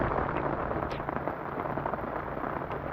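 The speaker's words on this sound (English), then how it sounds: "it's still raining quite hard" Heavy rain pours down at Furnace Lake, a dense, loud, steady hiss of drops with no break throughout, heard close as if beating on a shelter.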